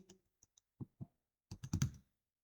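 Keystrokes on a computer keyboard, a few scattered clicks followed by a quicker cluster of close typing taps, with no talking.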